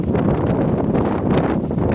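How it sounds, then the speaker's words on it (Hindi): Strong wind roars continuously close to the microphone, gusting and buffeting with a rustling edge, no voices. "हमारे गाँव में इस वक्त बहुत तेज़ हवा चल रहा है"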